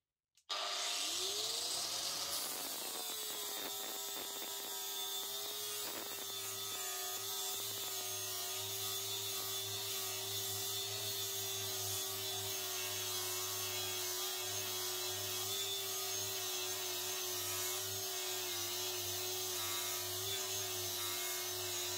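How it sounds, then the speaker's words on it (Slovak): An electric angle grinder spins up and grinds down a weld, a loud, steady whining drone under firm pressure that holds for about twenty seconds with no talking. "No a ďalej budeme brúsiť zvar."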